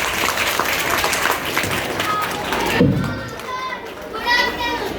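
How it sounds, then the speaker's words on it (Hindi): At a school cultural programme, loud applause welcomes disabled performers, mixed with lively children's voices and crowd noise. The clapping stays dense throughout and swells briefly near the middle. "तो जोरदार तालियों से स्वागत करते हैं हमारे अनोखे कलाकारों का"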